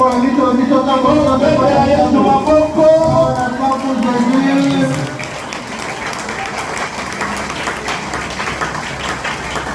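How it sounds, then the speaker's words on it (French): A church congregation at a worship service cheers and applauds in a loud, dense wash of clapping and voices, with a sung or shouted tone early on that gives way to sustained applause. "Les acclamations doivent être plus que ça"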